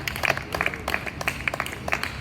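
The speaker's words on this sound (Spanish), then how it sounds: "Ese aplauso a mí me dice que lo entendieron, lo comprendieron, lo recibieron." A church congregation claps in praise of God, with a fairly steady patter of many hands that stays moderately loud for a couple of seconds.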